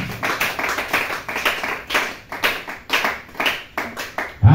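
A church congregation claps in praise, a run of rhythmic, fairly close hand claps in roughly regular bursts with a brief louder thump at the end.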